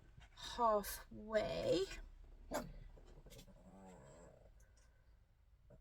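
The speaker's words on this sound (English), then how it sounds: "that's my doggy barking there in the background" A dog barks in the background of a home sewing session, with a couple of short, muffled barks early on while someone talks quietly nearby.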